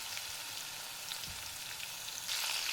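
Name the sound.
garlic frying in oil with cumin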